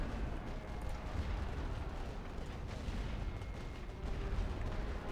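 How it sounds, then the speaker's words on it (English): Continuous rumbling WW1 artillery barrage in a video game, dense overlapping booms and distant blasts forming a steady roar for the whole stretch, with no voices. "Tirez un tir de barrage."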